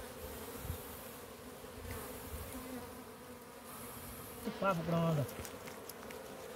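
Italian honey bees buzz steadily around a large honeycomb full of honey at an open hive in March, a dense close swarm hum, with people talking briefly nearby.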